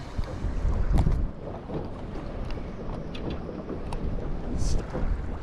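Strong wind buffets a small fishing boat out on inshore water, a steady roaring rumble with gusts and faint splashing, no voices.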